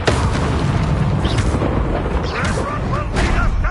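Blasts from the Bombarda explosion spell in Hogwarts Legacy: loud, dense booms and bursts of combat noise go on without a break, with voices talking over the fighting.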